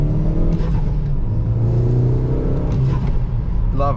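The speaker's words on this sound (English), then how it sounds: "from that noise you can already tell it's got a big intake kit on it" A hot hatch fitted with a big intake kit pulls out and accelerates hard, its engine droning loud and close with rising pitch throughout, no talk over it.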